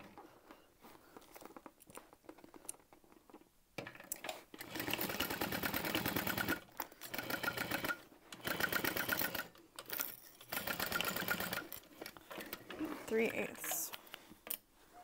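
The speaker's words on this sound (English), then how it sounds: "We're going to stitch all the way across, making sure nothing shifts." A sewing machine stitches across a tote bag in several close, buzzing bursts, with short pauses between runs and soft handling noises in the quiet gaps.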